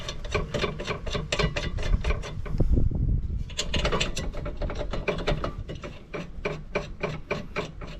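A hand ratchet clicks in quick, steady strokes, tightening the brake caliper bracket bolts on a 2017 Toyota RAV4 during a brake rotor and pad job. It is close, with brief metallic rubbing and handling sounds mixed in.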